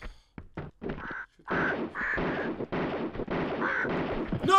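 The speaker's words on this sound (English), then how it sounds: "You got birds, though." Birds in the video game Tomb Raider II let out a run of harsh, crow-like cawing calls in quick, irregular bursts, fairly close and loud, with short gaps between them.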